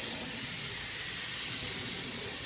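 Evercoat gelcoat sprays outdoors on a lawn onto a 1966 Corvette body, producing a loud, continuous airy hiss close to the spray gun that holds steady without pause.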